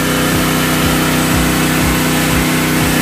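An Extreme 4000 inverter gas generator runs close and loud, its engine giving a steady drone with a low, regular pulsing throb.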